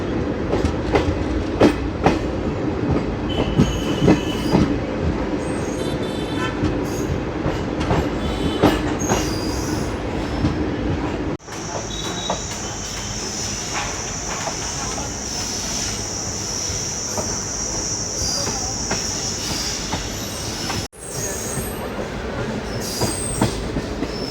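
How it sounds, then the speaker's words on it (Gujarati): A train pulling into Gondal railway station, with loud rumbling and clattering wheels, then a long high squeal of braking wheels, all close by and with almost no talk. "આપણી ટ્રેન પહોંચી ચૂકી છે ગોંડલ રેલવે સ્ટેશન"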